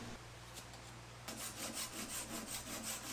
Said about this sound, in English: I used the Japanese saw to saw off the protruding dowels